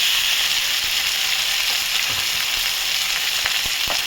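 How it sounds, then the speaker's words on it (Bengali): Tomato and green chilli sautéing in a pan for a mutton dish, a steady loud hiss of frying oil with small crackles and occasional stirring clinks, no voices. "টমেটো কাঁচা লঙ্কা। এটাকে কষবো, কষিয়ে ফিরছি।"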